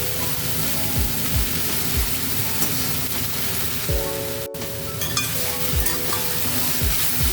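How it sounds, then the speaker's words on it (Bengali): Jute leaves (paat shak) stir-fry in a pan with a steady dense sizzle, broken by repeated scraping stirs throughout. "নেড়ে চেড়ে ভালো করে এর সঙ্গে ভেজে নেব। পাট শাকটা দিয়ে দিচ্ছি।"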